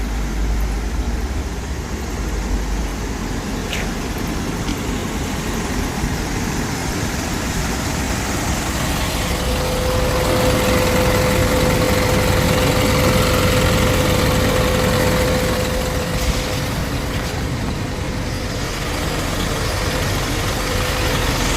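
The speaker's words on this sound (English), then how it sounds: "I'll go back and confirm the engines are still on." Engines of Juice Press delivery trucks idle at a factory, a steady continuous rumble with a faint tonal hum joining partway through, heard from a moderate distance with no voices.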